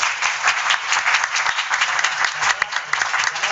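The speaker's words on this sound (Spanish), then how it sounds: "Bueno, un aplauso." An audience at a round-table talk on homebrew gives steady, dense applause, many hands clapping continuously throughout without voices.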